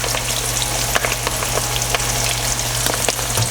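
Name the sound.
salt and pepper shrimp frying in oil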